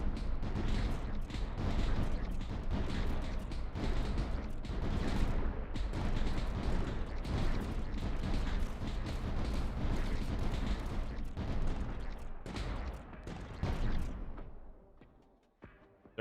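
Light mortars fire in the video game Tower Dominion as a dense, continuous barrage of booming blasts and thuds, loud and steady before thinning out and fading near the end.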